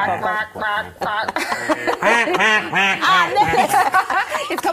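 A human voice mimics a duck, giving a run of repeated nasal quacks in steady rhythm, loud and close, with chuckling and laughter mixed in.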